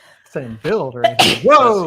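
A single sharp sneeze bursts out amid casual conversation, with people speaking just before and after it.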